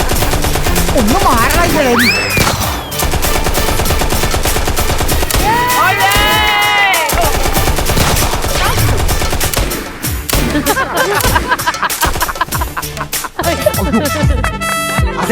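Rapid bursts of gunfire ring out in a comedy skit set at a rifle club, loud and sustained through most of the stretch, mixed with shouted voices and crowd noise.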